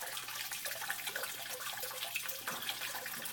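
Water flows steadily through a small mini sluice, washing fine silt away during fine gold recovery, a continuous close, soft rushing trickle with no talking.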